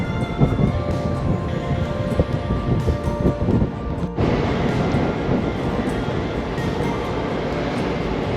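Steady, roaring wind noise buffets the microphone throughout, broadband and continuous, with a brief dip in the middle before the gusting resumes.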